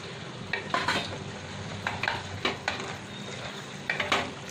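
Diced paneer, about 200 grams, tossed gently into a tomato gravy frying in oil in a pan. Soft stirring scrapes and sizzle come in short bursts close by, with no talk.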